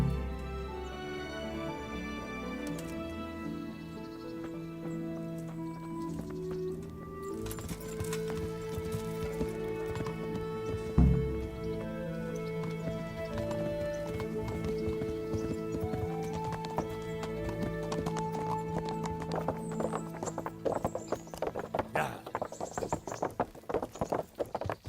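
Horse hooves clip-clop steadily in the Kingdom Come: Deliverance game, sitting under orchestral music that swells and grows busier and louder toward the end.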